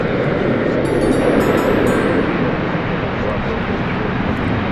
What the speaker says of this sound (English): Going out now is American Flight 1174 to Guadalajara.